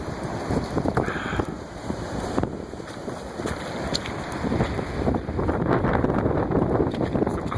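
Storm wind gusts and pounding ocean waves during the Blizzard of 2013 roar steadily with heavy wind buffeting on the microphone, the surge building louder toward the end.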